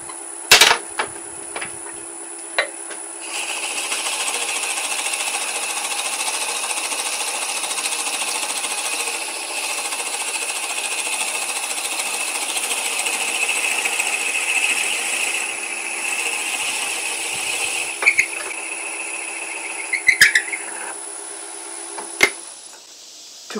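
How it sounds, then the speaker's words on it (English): A 3/4 inch Forstner bit bores halfway into a wooden Christmas ornament, giving a steady, loud mechanical whine with a bright high tone that runs for about fifteen seconds, then a few sharp knocks and clicks as the cut ends. "I'm going to bore halfway through the ornament with the 3/4 inch Forstner bit"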